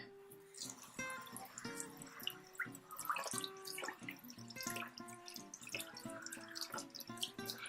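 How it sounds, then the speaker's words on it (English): Running water rinses a makeup brush under a tap, with steady splashing and small drips and knocks throughout, close and fairly busy over a continuous water hiss, with no one speaking. "so now we're going to rinse the brush out again."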